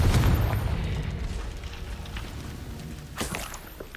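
Explosion spell from a Harry Potter video game, a heavy booming blast at the start that rumbles and fades, then a sharper second burst near the end.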